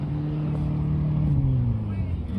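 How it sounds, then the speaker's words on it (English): Chase vehicle driving out onto the Bonneville salt flats, its engine a steady low drone that rises slightly in pitch as it pulls away, close and continuous with faint voices around. "Chase vehicle coming out."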